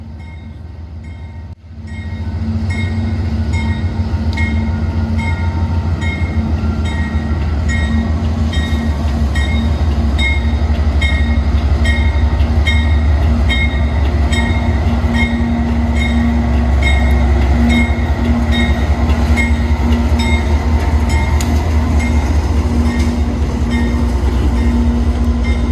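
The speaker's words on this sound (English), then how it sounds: "here's a quick clip of the last train of the night" A heavy freight train rolls past close by at night in Kentucky for a long stretch, its loud rumbling drone and rhythmic wheel clatter steady throughout.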